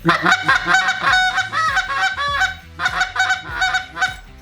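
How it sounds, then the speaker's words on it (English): A short reed goose call blown without hands in quick bursts of honks, buzzy and nasal like a kazoo, in two runs separated by a short pause. "Now it's going to sound a little bit more like a kazoo and less like the actual Canada goose"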